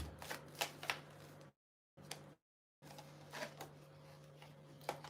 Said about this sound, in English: We're going to shuffle properly, please.